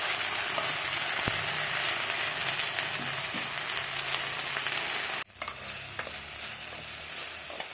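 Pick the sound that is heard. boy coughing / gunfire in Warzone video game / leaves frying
leaves frying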